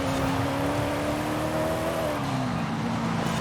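A 2016 Koenigsegg Regera in Forza Horizon 5 accelerates on its single gear with a smooth, steady engine hum that climbs gently in pitch and then eases off, moderately loud, with no talking.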